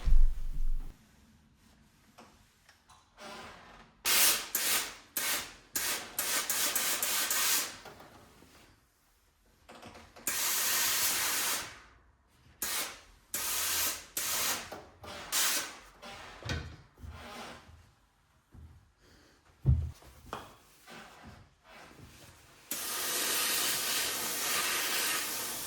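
A steam iron presses seam allowances on a rounded ironing board for a pencil skirt, giving repeated bursts of loud steam hiss broken by quiet gaps and soft knocks of the iron.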